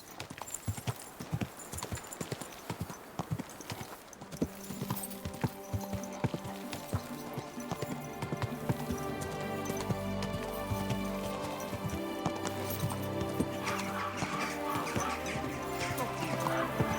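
Horse hooves clip-clopping in the game Kingdom Come: Deliverance II, a steady rhythm of hoofbeats mixed under music and ambient sound that swells midway.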